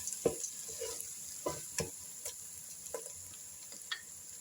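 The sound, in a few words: stirring bulgur into soup pot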